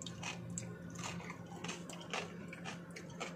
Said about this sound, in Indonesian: Ini kulitnya garing banget, crunchy banget.